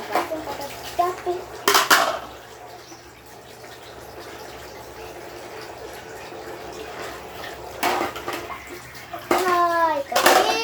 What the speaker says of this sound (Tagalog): Pangugas plato.